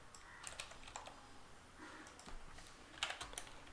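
Quiet, irregular keystrokes on a computer keyboard while typing into Notepad, with short bursts of clicks and brief pauses and no voices.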